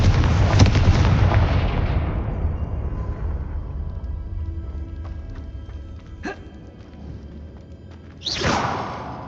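Spell blasts from the Confringo fire spell in the video game Hogwarts Legacy: a loud explosive burst that fades into a rumbling tail, a few sharp cracks, then another whooshing blast near the end.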